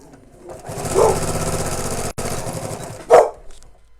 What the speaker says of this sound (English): If you can hear a dog barking